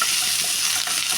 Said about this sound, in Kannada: ಒಂದು ಬಟ್ಲು ಈರುಳ್ಳಿ, ಹಾಕ್ಕೊಂಡ್ಬಿಟ್ಟು ಸ್ವಲ್ಪ ಫ್ರೈ ಮಾಡೋಣ.